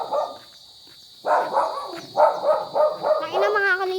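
Dog barking repeatedly outdoors near a house, a run of sharp mid-pitched barks at moderate distance after a brief quiet spell, with a constant high electronic whine over the scene.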